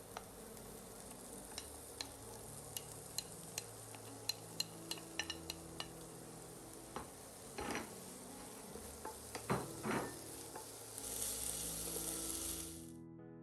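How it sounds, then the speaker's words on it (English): Onions and bell peppers frying in a pan: a soft, steady sizzle with a quick series of sharp ticks from a utensil, then louder scraping stirs and a brief rise in hissing near the end. "Once the onions are fragrant, add the bell peppers to the pan."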